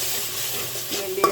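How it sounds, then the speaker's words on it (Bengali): Radhuni mixed spice powder goes into a sizzling pan of masala for a roast, a steady frying hiss with a brief scrape of stirring at the end. "এখানে রাঁধুনি মিক্স মশলাটা দিয়ে দিলাম"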